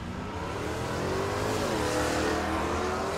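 A drag race pits a classic shoebox Chevrolet against a late model Camaro, with loud engines roaring and revving hard in a steady continuous blast that climbs in pitch as the cars accelerate, and no voices.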